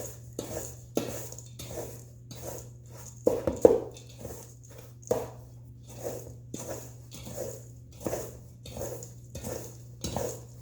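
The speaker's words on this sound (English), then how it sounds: "Make sure to mix it well." No-bake cookie mixture is stirred in a bowl, a spoon scraping and knocking against the sides in a regular rhythm of roughly one stroke per second, close and clear over a low steady hum.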